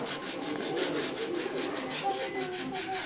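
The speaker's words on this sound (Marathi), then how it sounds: "स्वच्छ असं धुवून घेणार आहे पाय, ब्रशने घासून असं घेते" A brush scrubbing bare feet during a home foot-cleaning routine, a steady rhythmic back-and-forth rasping with regular strokes, close and continuous without pause.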